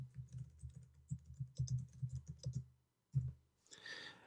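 A name is typed on a computer keyboard: a quick run of soft close keystrokes, a short pause, a single key press, then a brief rustle at the end.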